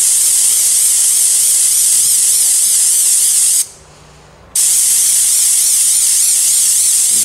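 Loud, close hissing spray of cleaner soaking an ATV air filter, a continuous jet broken by a single one-second pause before the spray resumes.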